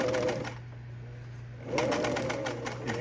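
A sewing machine back-stitches a tent zipper, running in a quick burst, pausing for about a second, then whirring again with rapid needle clatter, close and clear with no talk.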